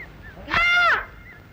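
A single loud, nasal honk-like call rings out briefly, a human voice imitating a crow's caw in a comedy scene.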